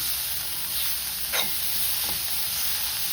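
Cabbage and potato sauté in a pan, giving a soft, even sizzle throughout with a brief stirring scrape partway through, close and steady with no voices.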